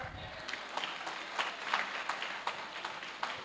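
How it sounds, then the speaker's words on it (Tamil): Audience at a school annual day and graduation event clapping in a loose, scattered rhythm, soft and somewhat distant, with individual claps surfacing every half second or so over a low hum. "ஓகே, எல்லாரும் நல்லா கைத்தட்டுங்க."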